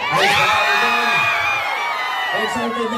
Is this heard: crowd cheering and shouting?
yes